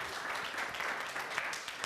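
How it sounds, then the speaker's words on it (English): Audience applause at a business mastermind session, a dense steady wash of clapping lasting about two seconds at moderate level, with no clear voices over it. "Give her a round of applause"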